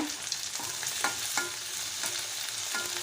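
Onion, curry leaves and sun-dried pepper (vattal milagu) sautéing in a pan for pulli kuzhambu make a steady, close sizzle with short scrapes of a stirring spoon at irregular intervals.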